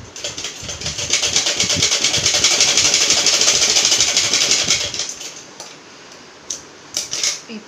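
Sewing machine stitching a cloth face mask, a fast rhythmic mechanical clatter that runs steadily for about five seconds, then stops, followed by a few light handling clicks.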